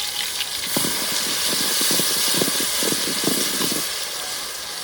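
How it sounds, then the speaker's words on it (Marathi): Garlic, cumin and ginger paste frying loudly in a few spoonfuls of oil for a farm chicken curry, giving a steady close hiss with scattered sharp crackles and pops throughout. "पेस्ट लसण जिरं अद्रक चांगला आवाज करून एकदम भयानक चालू आहे"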